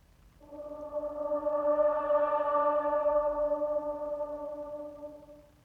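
The Audience Choir pad patch from a free Kontakt instrument holds one soft, airy choral chord that swells in slowly, sustains and fades gently, heard alone at low volume.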